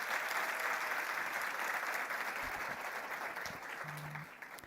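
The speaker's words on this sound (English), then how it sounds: "Let's make sure that she hears our warm Namibian round of applause" Warm audience applause at a women in finance and insurance summit in Namibia, a steady dense roar of clapping hands filling the room and tapering slightly toward the end.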